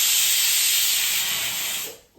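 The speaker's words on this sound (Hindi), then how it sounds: "कुकर में सीटी आ गई" A pressure cooker whistles and releases steam while bottle gourd cooks for pakoda kadhi. It is a loud, steady, high hiss that lasts about two seconds, then cuts off abruptly.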